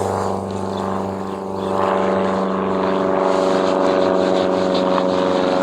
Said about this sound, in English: a small aircraft has decided to go over and disrupt our sound quality